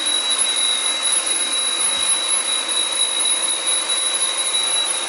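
A Mi robot vacuum mop hums and whines steadily at a constant level, with a thin high-pitched tone running throughout.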